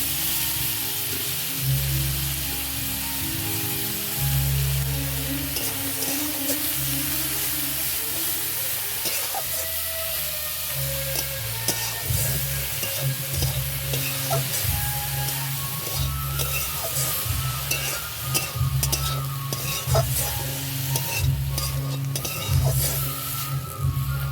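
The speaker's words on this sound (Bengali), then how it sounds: "এখন আমি সর্ষের ফুলগুলো দিয়ে দেবো" Shrimp frying with mustard flowers in a pan, giving a steady close sizzle and hiss with light stirring and scraping throughout.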